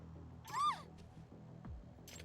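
A single short, rising-and-falling cat meow from the video game Lost Judgment, clear and fairly close, followed by faint soft game effects and low background ambience, with no talking.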